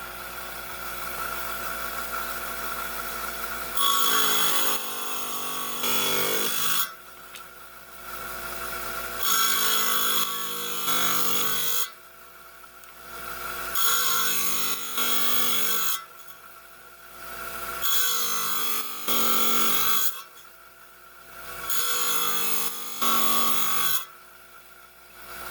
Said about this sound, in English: I got my high-tech 5-inch trim saw buzzing away here.